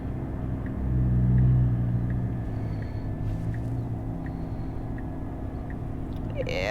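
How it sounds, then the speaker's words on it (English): Road traffic rumbles past a car in steady low-pitched drone, with one vehicle swelling louder nearby before the noise settles into continuous moderate hum. "Yeah, we got lots of traffic."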